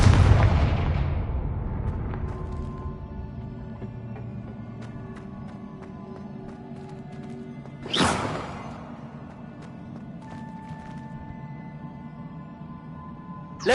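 Blasting-spell explosions in a Hogwarts video game: a loud boom opens, decays into a long rumbling tail, then a sharp rising whoosh-burst near the middle and another hit at the end, with faint tonal game effects between.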